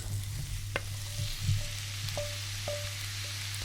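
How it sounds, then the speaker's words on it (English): Onion frying in a non-stick pan, a constant close sizzle with a low steady hum and a few sharp clicks and pops scattered across it, no one speaking. "We can add the onion into the non-stick pan."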